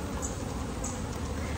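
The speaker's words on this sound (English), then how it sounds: "see how this entire frame is coated in bees" Honey bees on a hive frame produce a dense, continuous buzz that stays close and steady throughout, with no talking.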